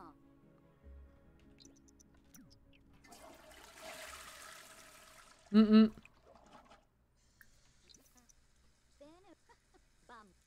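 In a video game, a toilet flushes softly, followed by a brief louder splash of water and faint dripping, all quiet and in the background while a voice talks now and then.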